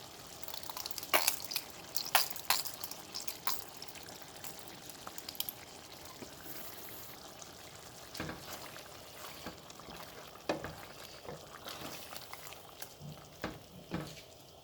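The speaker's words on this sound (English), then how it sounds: "And now it's time to add tomato ketchup." Tomato ketchup goes into a pan of frying chicken shashlik, giving a quiet, soft sizzle broken by scattered clicks, splats and utensil taps.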